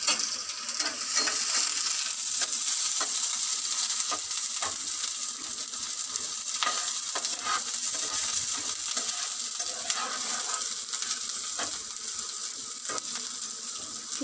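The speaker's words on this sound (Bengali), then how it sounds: "পেঁয়াজগুলো ভালো করে একটু ভেজে নেব।" Onions frying in a pan alongside boiled potatoes and green chillies, a steady close sizzle with occasional scraping stirs and clicks throughout.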